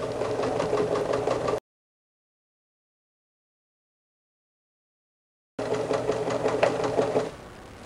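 A sewing machine stitches a beginner's quilt top in two steady runs of fast, even mechanical whirring, separated by a few seconds of silence, close and moderately loud.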